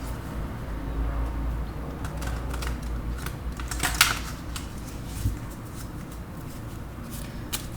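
Tarot cards are shuffled in quiet, soft papery riffles and taps, with a slightly louder flurry midway and no talking over it.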